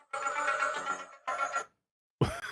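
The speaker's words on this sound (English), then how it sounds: "That's my phone ringtone" A phone ringtone playing a TV theme, heard during a live VR gaming show as a near, electronic melody in two bursts separated by a short gap, then cut off by an abrupt sharp noise.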